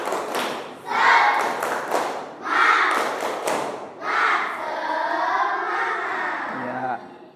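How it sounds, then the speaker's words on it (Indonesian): A classroom of pupils does a rhythmic spirit clap (tepuk semangat) during an Islamic religious studies lesson, with three loud rounds of clapping and chanting voices, then a teacher's voice speaking over the fading noise. "Tepuk semangat."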